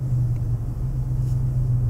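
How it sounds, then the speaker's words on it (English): Big trucks idle outside with a deep, steady, loud low rumble that runs without a break, no voices over it. "People are starting up their big old trucks."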